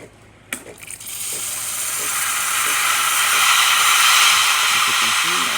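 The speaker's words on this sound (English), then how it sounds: "We're gonna test the steamer as well." The steam wand of a Breville espresso machine gives a sharp click, then a loud, rough hiss that swells and holds steady for several seconds.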